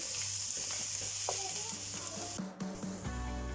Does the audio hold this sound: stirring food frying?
yes